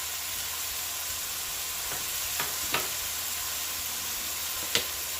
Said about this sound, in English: I'm gonna add in a little bit of butter, just this,